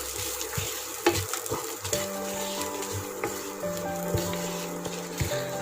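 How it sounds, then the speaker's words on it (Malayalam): Grated coconut being sautéed in a little oil in a pan, a steady soft sizzle with scraping stir strokes and occasional utensil knocks against the pan, close and continuous with no talk. "ഒരു 5 മിനിറ്റ് കഷ്ടപ്പെട്ടൊന്ന് വഴറ്റേണ്ടി വരും."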